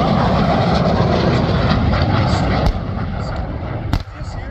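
A military aircraft roars past at the Dayton air show, a loud broadband rush that swells and then drops away near the end, with a voice talking over it.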